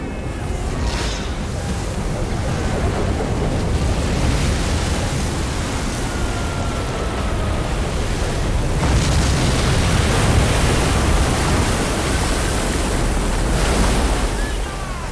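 Ocean waves break at a dangerous surf spot, a steady loud roar of surf mixed with wind buffeting the microphone, swelling slightly in the middle and continuing throughout.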